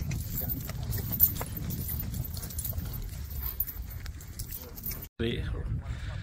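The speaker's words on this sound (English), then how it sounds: "horse riding on the beach" A horse walks on the sand at Half Moon Beach in Saudi Arabia, its soft hoof thuds buried under heavy wind rumble and riders' voices, ending in a brief dropout before the noise returns.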